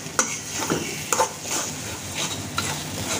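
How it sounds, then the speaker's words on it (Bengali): Sidol dried fish fried until red in a pan, a low steady sizzle broken by several sharp clinks and scrapes of a spatula stirring against the metal, close by with no talk. "এটাকে উনি একদম লাল লাল করে ভেজে নিচ্ছে"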